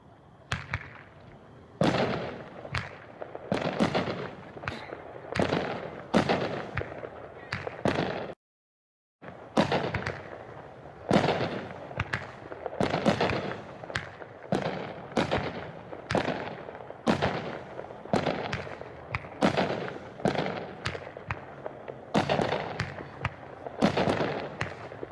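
A 16-shot, 350-gram firework cake named Fortnite fires outdoors in a series of sharp, fairly distant bangs and crackles, launched in a steady rhythm with one brief pause partway through.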